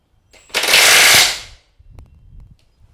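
Tool torquing down the rear axle lock nut on a dirt bike during a chain replacement, a loud rattling impact burst of about one second, then faint clanks.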